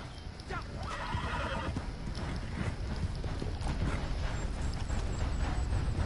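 A horse in the video game Red Dead neighs loudly and its hooves clop steadily against a constant rumbling game backdrop, with no talking.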